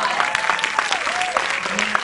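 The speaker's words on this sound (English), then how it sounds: "Round of applause." Steady applause from an audience, a dense wash of clapping throughout, with a voice faintly heard underneath.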